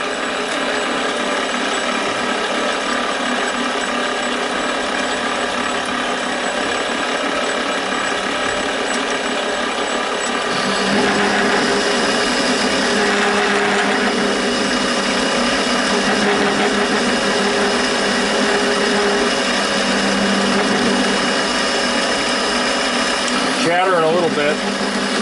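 A lathe tool chatters while facing the front of a tailstock die holder, a continuous loud grinding buzz with a rough vibrating whine that holds steady for a long stretch and changes tone partway through.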